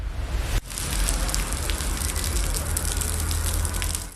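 Steady rain falls on a small patch of street pavement, a loud, dense hiss that continues unbroken after a brief thump at the start.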